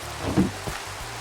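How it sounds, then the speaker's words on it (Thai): Rain falls in Minecraft in a Chernobyl-themed survival world: a brief wash of steady patter with a couple of soft low thumps. "ฝนตกแย่แย่ แย่ไปหน่อยฝนตก"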